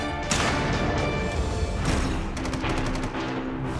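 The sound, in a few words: submachine gun firing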